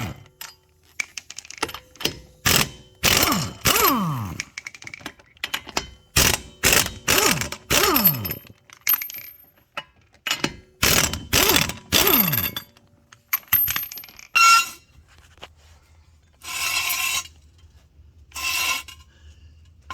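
Tools clatter and ratchet close by in a garage while a car's front wheels come off, with bursts of clicking ratchet strokes, metallic clinks and rattling parts in uneven runs and short pauses.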